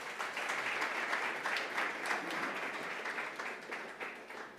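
An audience at a university book-of-the-month event applauds, steady dense clapping that holds for several seconds and tapers slightly toward the end, heard from within the room.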